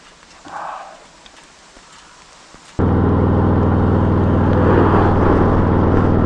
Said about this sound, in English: Rain's getting heavier